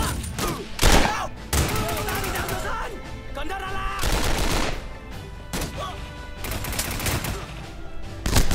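Rapid gunfire crackles nonstop in a Dien Bien Phu battle video game, loud bursts and automatic volleys layered densely with in-game sounds, with a player speaking over it.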